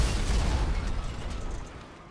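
A bazooka rocket blows up a G-Class car in GTA 5: one loud, close explosion whose low boom rolls out and slowly fades over about two seconds, with no other sound.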